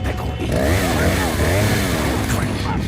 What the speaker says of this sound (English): Chainsaw.